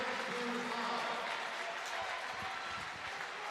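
Crowd applauding the players of the Avoca/Prattsburgh Titans at a Class D New York State championship game, a steady wash of clapping that holds evenly throughout while a commentator talks over it.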